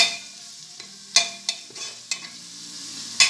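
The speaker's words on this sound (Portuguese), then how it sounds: "para que ela dê uma friturazinha e solte o sabor dela" Sliced calabresa sausage fries in a pan, a soft steady sizzle broken by several sharp scrapes and clinks of a utensil stirring, close up with no talk.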